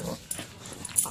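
An Australian Silky Terrier whines and whimpers in short, close bursts while a tug on a toy bird goes on, with some rustling and breathy noise around it.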